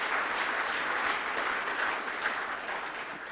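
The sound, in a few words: applause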